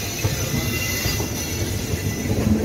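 A train rolls past near Kolkata on the line toward Sealdah, a loud continuous rumble of wheels on rails with metallic squealing and a steady hiss, close by and with no voices.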